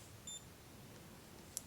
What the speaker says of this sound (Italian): emette un beep e si accende nella modalità in cui è configurato